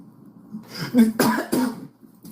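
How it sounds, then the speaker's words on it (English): A few harsh, close coughs in a quick cluster, with some throat clearing around them and quiet breathing before and after. "Now you got me coughing."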